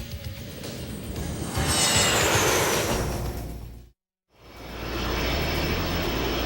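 An F/A-18 Hornet jet fighter roars past, its loud engine noise swelling to a peak and then fading, cut by a short silent gap before the roar picks up again.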